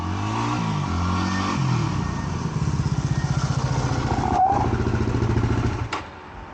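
A BMW F650 Funduro motorcycle engine running close by, a loud steady idle with a throbbing pulse that settles, then briefly cuts off near the end.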